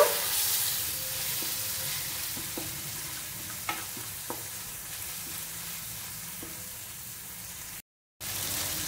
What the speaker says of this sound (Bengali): এটাও একটু ভাজা ভাজা করে নেব।